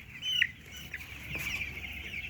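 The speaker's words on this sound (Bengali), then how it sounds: "একটা এখান থেকে সিম্পল একটা মুরগি ধরলাম" Broiler chickens about ten days old cluck and cheep in a poultry shed. Short calls come in and out over a low, steady farm background.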